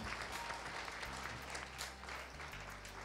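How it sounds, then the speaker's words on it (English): An audience at a media recognition award ceremony claps in a dense, continuous round that sounds faint and distant, staying at an even level for about three seconds. "please help me clap for these people"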